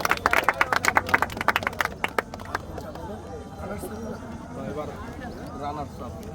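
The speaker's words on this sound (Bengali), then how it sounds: "সেরা গোলকিপার হাততালি হয়ে যাবে একটা" Applause for the best goalkeeper at the opening match of a football academy in Muksudpur: a short burst of clapping that fades after about two seconds, followed by someone talking over crowd murmur.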